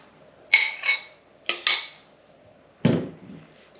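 A spoon clinks and scrapes against a bowl while flour and egg are mixed for a marmalade cake, with about four sharp, close knocks spaced apart and no talking.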